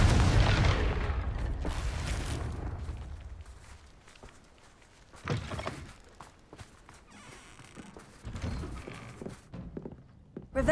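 Confringo explosion spell cast in Hogwarts Legacy: a loud burst at the start that decays over a couple of seconds, followed by scattered thuds and footstep-like impacts, with quieter game sounds between.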